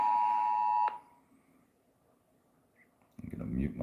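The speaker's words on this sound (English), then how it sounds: "There goes a abduction alert." An abduction alert from a board game companion app on a phone gives one steady electronic beep lasting nearly a second, then quiet, with faint handling noise after.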